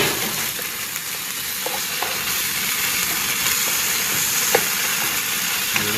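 Laksa curry paste sautéing in a pan outdoors, a steady close sizzle and hiss running throughout with a few faint stirring clicks, no talk.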